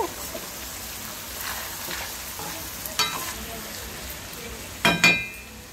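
Sliced onions frying in a pan with turmeric and salt, a steady soft sizzle with occasional stirring scrapes and a couple of louder spatters near the end, heard close without talk.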